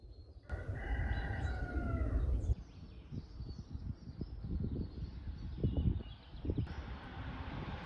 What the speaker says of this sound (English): The cockerel begins to announce the beginning of the day.